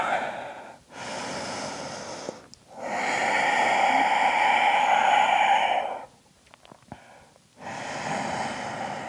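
Slow, deep breaths held in a yoga downward dog pose: long, audible inhales and exhales come close and clear, separated by short pauses, with no talking.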